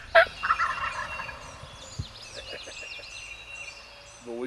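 A wild turkey gobbler in Tennessee gobbles once in a rapid rattling burst near the start, loud and fairly close. Softer bird chirps follow over quiet outdoor background during the hunt.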